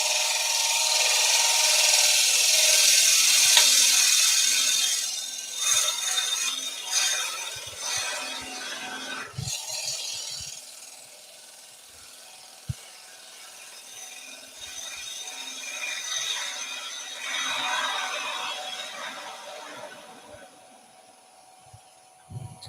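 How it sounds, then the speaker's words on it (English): Finishing cut on the bottom of a wooden bowl, a continuous scraping, rasping tool sound on wood that eases off midway, with brief knocks and a quieter stretch of cutting toward the end. "We're just going to do a little finishing cut on the bottom."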